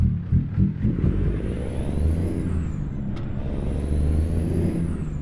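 In American Truck Simulator, a Kenworth W900 truck pulls away with a deep, loud diesel engine rumble that builds steadily. A brief air-brake hiss cuts in partway through.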